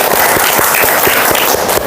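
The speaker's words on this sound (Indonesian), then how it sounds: "Beri tepuk tangannya." Loud, close classroom applause after a group presentation, rapid overlapping hand claps forming a dense burst with distinct individual slaps, no talking.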